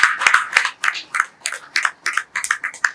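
Scattered hand clapping from an audience at a research symposium award ceremony, a thin, uneven patter of individual claps that rises and falls in quick bursts without any voices.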